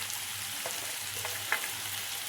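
Spices, green chillies and ginger pieces roasting on low heat in a pan, a soft continuous sizzle with a few light stirring taps.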